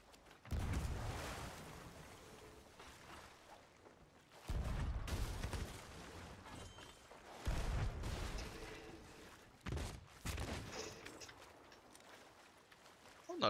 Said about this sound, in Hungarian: Honnan lőnek?